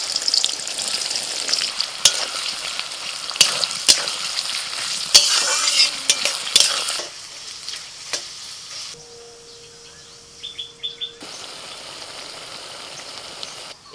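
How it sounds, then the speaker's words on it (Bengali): Chopped onions sizzling and frying in hot oil for beresta, a steady close crackle with sharp spatter pops and occasional stirring, fading to a quieter simmer toward the end. "এবার বেরেস্তা ভেজে নেব। তেল গরম হয়ে গেছে"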